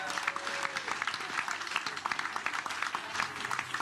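An audience applauds as six contestants are called onto a stage, producing a steady, dense patter of clapping that carries on evenly from start to finish.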